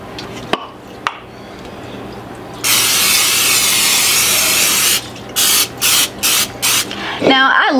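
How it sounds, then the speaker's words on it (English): A long, loud hiss from an aerosol cooking spray can coating a Dutch oven, followed by several short bursts of spraying in quick succession. "we're gonna go ahead and just spray our Dutch oven"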